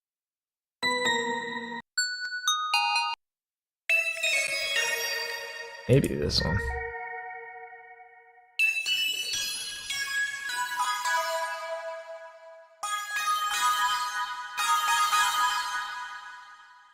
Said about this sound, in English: We'll find a bell and get it through inner space.